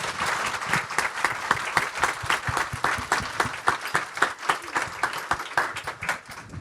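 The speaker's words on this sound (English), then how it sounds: "let's have one more round of applause for them" Enthusiastic audience applause at an awards celebration, many people clapping in a dense, uneven patter with distinct individual claps standing out throughout.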